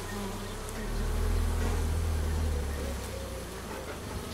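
A dense, steady drone of Carpatica honeybees buzzing around a Miniplus hive, close and continuous, swelling slightly in the middle with no talk.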